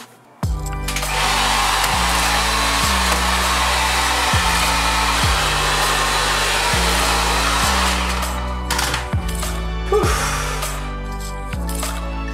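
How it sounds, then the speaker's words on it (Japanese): A hand-held hair dryer blows hair dry at night, a loud steady whirring roar that starts abruptly and runs unbroken, its pitch dipping slightly in a regular pulsing pattern as it is moved. "こんな感じで髪適当に上に上げて乾かします。"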